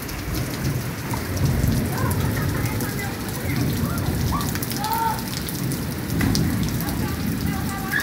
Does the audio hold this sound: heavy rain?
yes